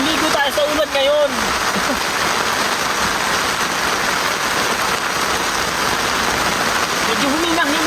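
Steady hiss of rain falling at a campsite, an even, close wash of drops that continues throughout, with people talking over it at the start and again near the end.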